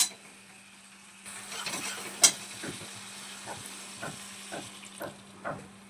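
Spice paste with yogurt being sautéed in a pan for capsicum paneer, a soft low sizzle with occasional scrapes and stirring knocks, fairly quiet throughout.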